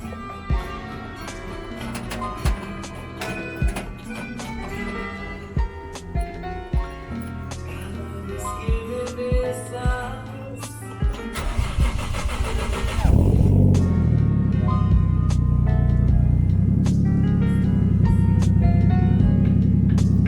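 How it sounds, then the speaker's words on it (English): A car that has sat unused for a while is started, with clicks and rattles, a cranking burst, then the engine catches and settles into a loud steady idle. "I haven't turned this car on in a while. So let's see if it'll actually turn on."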